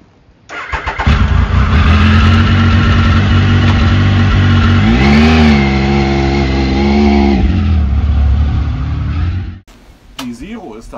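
A motorcycle engine starts and pulls away, a loud steady combustion drone that swells as it revs and accelerates, then cuts off abruptly, followed by brief talk.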